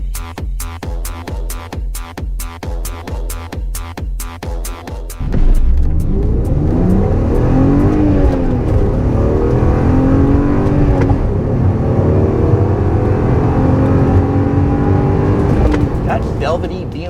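Coming from inside a 2001 BMW Z3 Coupe with a 3-liter engine and five-speed manual, the car accelerates after a rhythmic ticking, its engine note climbing steadily and close, while someone talks over it.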